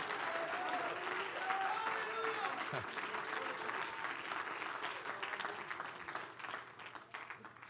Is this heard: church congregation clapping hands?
yes